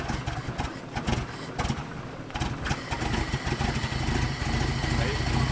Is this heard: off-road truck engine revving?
yes